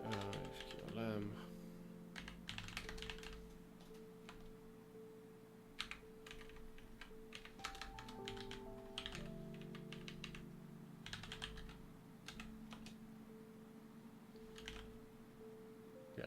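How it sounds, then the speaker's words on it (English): Keystrokes clatter on a computer keyboard in irregular bursts of quick taps, close and fairly quiet over a low steady hum, with scattered pauses between runs of typing. "I can type this out."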